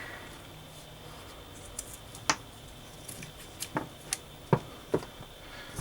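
Scissors snip the ends of a paracord survival bracelet, making a handful of sharp, quiet clicks spaced irregularly over faint background hiss, close up and with no talking.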